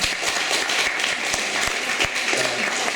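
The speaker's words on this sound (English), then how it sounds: "I let the applause go on the clock" Audience applause at a Waterbeach election hustings question session, steady dense clapping filling the room at moderate volume throughout, with no talk over it.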